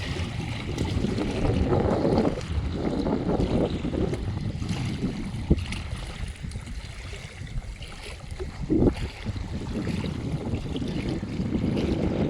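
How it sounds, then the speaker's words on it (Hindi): Water flows steadily outdoors on a cool morning in nature, a continuous rushing wash mixed with gusts of wind buffeting the microphone, with no one talking. "पानी की आवाज़ भी आप तक पहुँचती हुई।"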